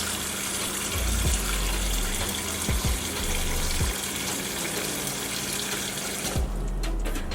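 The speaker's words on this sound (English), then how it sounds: "I'm going to run fresh water on our fish once again." Tap water runs steadily over fresh red snapper in a kitchen sink, a continuous close splashing gush with a few brief clunks and shifts as the fish is handled, ending with a quieter patch.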